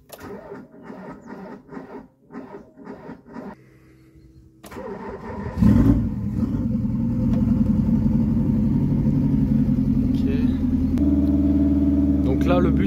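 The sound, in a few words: cold Renault Espace turbo engine running and warming up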